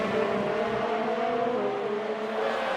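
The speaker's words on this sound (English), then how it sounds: "Amazing how Ryan's car sounds absolutely fine in comparison to Dylan's when you go on board." Race car engines from an Italian Grand Prix round in a racing video game, a steady loud droning whine with sliding pitch, onboard with no talk.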